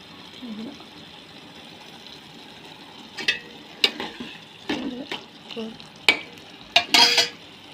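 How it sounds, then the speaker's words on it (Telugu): Brinjal and coriander curry simmers in a pan while a spoon scrapes and stirs it in a run of sharp, irregular knocks over a soft steady sizzle. "ఉడుకుతోంది కూర."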